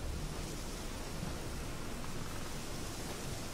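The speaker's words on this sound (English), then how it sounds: "The storm, damn it." Steady, dense rain hiss filling the scene in The Witcher 3: Wild Hunt during a thunderstorm, a constant broadband downpour with no distinct thunder crack, heard alone without talk.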